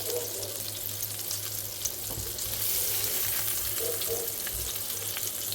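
Meatballs for a rich tomato gravy frying in a pan, a steady close sizzle and crackle with soft stirring scrapes throughout and a low hum beneath.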